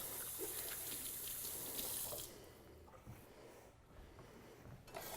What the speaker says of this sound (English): I'm just going to quick wash my hands.